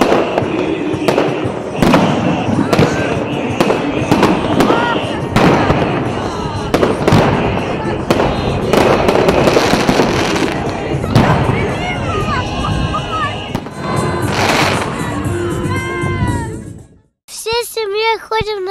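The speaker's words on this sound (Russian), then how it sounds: "Очень красивый салют был." Fireworks display in Anapa, Russia, crackling and booming in rapid, dense bursts, loud and continuous, with voices faintly underneath and a short pause near the end.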